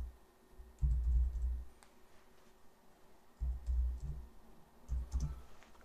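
Close, quiet typing on a computer keyboard in short bursts of soft clicking with pauses between them.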